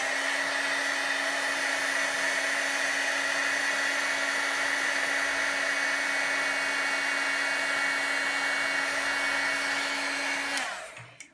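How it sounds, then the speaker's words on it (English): An embossing heat tool blows with a loud, steady whirring roar for about ten seconds, close to the listener, then switches off and spins down. "so I'll just get my heat tool."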